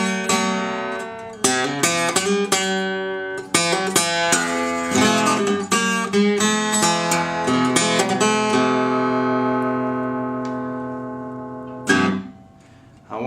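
Acoustic guitar plays the introduction to a blues song, a run of plucked blues phrases with ringing sustained notes, loud and close, ending in a long decaying chord and a final pluck.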